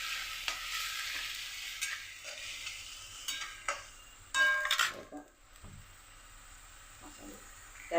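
Spice paste with salt being stirred in a pan for a paneer curry, giving soft scraping stirs with a quiet sizzle, fairly faint, a brief louder scrape near the middle and no talking.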